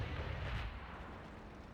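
A deep booming tank cannon blast from a video game, with a rumbling low tail that fades out over a second or so, heard alone.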